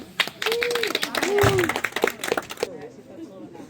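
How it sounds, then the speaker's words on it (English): A small group of visitors claps in a burst of quick, close applause mixed with voices and whoops, then fades into quieter chatter. "Can we get a round of applause?"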